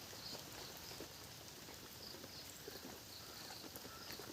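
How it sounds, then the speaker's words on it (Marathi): Heavy morning rain hisses evenly throughout, a continuous wash of falling water with faint patters over a waterlogged garlic field, no voices. "पाच वाजल्यापासून पाऊस चालू आहे"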